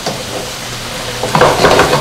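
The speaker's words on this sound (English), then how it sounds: "it's going to be at a high boil" A pot of food at a high boil on a home cooking show stove, its steady bubbling hiss joined by stirring and the clink of a spoon and pot, with a louder burst of bubbling and scraping near the end.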